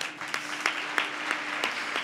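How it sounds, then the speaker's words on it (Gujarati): Audience at a Hindu religious discourse in Vadtal gives applause, a moderate patter of clapping with a few sharper individual claps standing out. "તાળીઓથી વધાવો"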